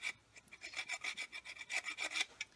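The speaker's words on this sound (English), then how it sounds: "so what I'm going to try is hacksaw." Short rhythmic hacksaw strokes rasp into a cracked steering wheel, about a dozen quick back-and-forth scrapes heard close up and fairly quiet, with no talking.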